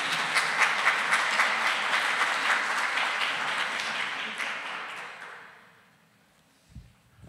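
A conference audience applauds and cheers in a dense, steady wash of clapping that slowly fades to quiet, with a single thump near the end.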